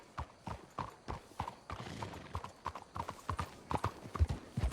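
Horses trot in Red Dead Redemption 2, a quick irregular clip-clop of hooves on dirt with soft snorting, fairly faint and close, no talk over it.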